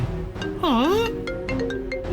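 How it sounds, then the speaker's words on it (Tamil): A mobile phone ringtone plays a loud swooping, warbling melodic tone that dips and rises, followed by softer repeated electronic chirps, with faint background sounds in a TV drama scene. "மாப்பிள்ள மொபைல் சத்தம்."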